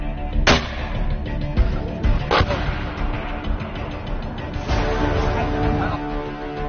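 A 60 mm mortar fires at a mountain military competition, with a few sharp booms standing out over a steady roar of outdoor noise and wind, distant voices occasionally audible.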